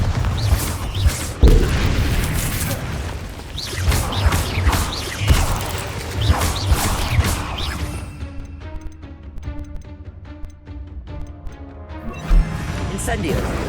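Bombarda spell blasts in Hogwarts Legacy, heavy booming explosions and crashing impacts repeating through the fight, loud and dense, with a voice talking over them before the noise thins into a quieter musical stretch.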